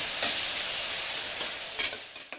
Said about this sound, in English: Fry it nicely. Fry till the raw smell goes off.